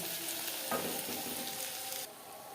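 Fish oil and eggs with chopped green chilli frying in a pan for a Bengali chorchori, a steady close sizzle with faint stirring scrapes throughout.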